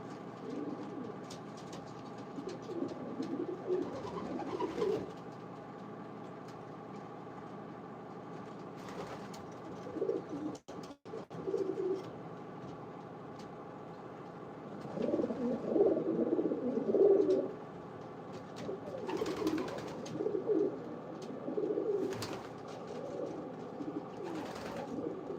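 Pigeons coo in a breeder loft, soft rolling calls coming in bursts at a steady moderate distance over a constant low hum, with a couple of sharp clicks partway through.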